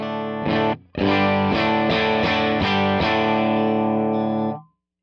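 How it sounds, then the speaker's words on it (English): Electric guitar played through a Vox AC30 amp model on a Fractal FM9, distorted with chorus-like shimmer: a few sustained chords and repeated strummed hits, loud and close with no talking. "Nope, that's the sound of the AC30."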